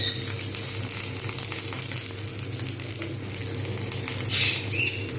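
Parcels of paneer paturi fry in a hot pan over low heat, giving a steady, close sizzle and spitting throughout with a brief louder crackle near the end, and no voices.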